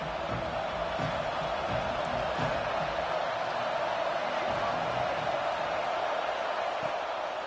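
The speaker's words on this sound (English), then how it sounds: "how nice is it to have the home crowd going absolutely bananas?" A home crowd roars steadily in a college football video game, Penn State hosting Maryland, the cheering a continuous distant wash that sits under a commentator's voice throughout.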